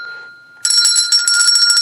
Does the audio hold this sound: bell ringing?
yes